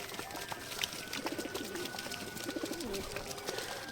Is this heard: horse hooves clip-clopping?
no